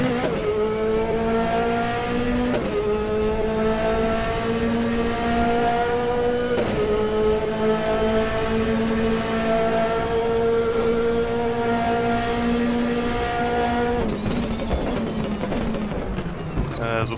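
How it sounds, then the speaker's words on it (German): A P4/5 Competizione race car at Monza in the RaceRoom game, its engine roaring loud and close, climbing through gears with sharp upshift drops and a braking downshift near the end, without talk. "Ich bin jetzt mal eine Runde ruhig, um euch den Motorsound genießen zu lassen."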